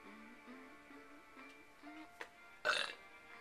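A single short, loud burp breaks in near the end, over soft background music.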